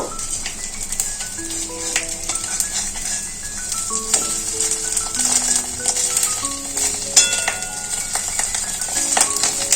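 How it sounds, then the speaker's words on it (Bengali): Fish roe fritters fry gently in oil over low heat, a steady soft sizzle running throughout beneath faint clinks and tonal background music. "এই ডিমের বড়াগুলো কম আঁচে ভাজা হয়ে গেল"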